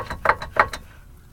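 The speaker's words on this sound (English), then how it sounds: "here's the driver's side CV joint and axle, and it's making some noise." A worn driver's side CV joint and axle on a 2000 Chevy K2500HD knock in a quick series of three or four sharp, close metallic clunks, then fade to quiet.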